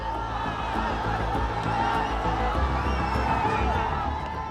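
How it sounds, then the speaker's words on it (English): A large protest crowd of demonstrators surges toward Parliament, a dense, continuous roar of many voices with shouts and whoops rising out of it, loud and unbroken throughout. "And the crowd surges towards Parliament."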